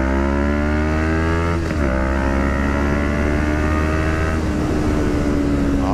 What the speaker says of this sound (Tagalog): Gumanda na yung takbo ng motor natin.